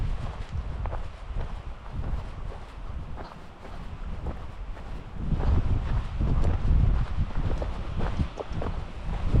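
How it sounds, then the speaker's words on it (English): Wind gusting steadily across an open country roadside on a walk, a dense low rumble buffeting the microphone throughout and swelling louder in the second half, with faint footstep-like thuds beneath and no voices. "Wind's picking up now, so it's keeping me nice and cool"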